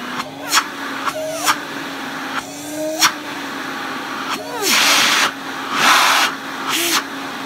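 An Electrolux 304 cylinder vacuum cleaner runs close by with a steady motor whine, its pitch shifting as the suction is blocked and released, and bursts of rushing airflow.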